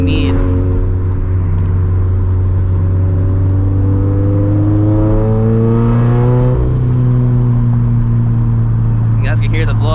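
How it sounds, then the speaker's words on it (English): Turbocharged 2013 Scion FR-S under way, engine droning loud and close as it pulls up through the revs, with a brief dip and faint turbo blow-off hiss at the shift, then steady cruising. "I don't know if you guys can hear the blow-off valve a little bit."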